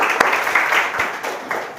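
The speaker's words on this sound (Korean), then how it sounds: "우리 새 집 지어주신 하나님께 우리 감사의 박수 올립시다." A church congregation at a Sunday service in an artillery brigade chapel claps together in a brief, dense burst of applause that fills the room and fades within about two seconds.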